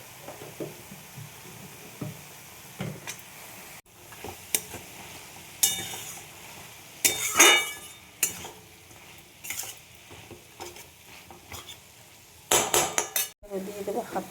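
Banana flower stir-fried with peas in a pan, heard as a low sizzle broken by repeated scraping and clanking of a spatula against the metal, some sharp bursts of clatter near and loud.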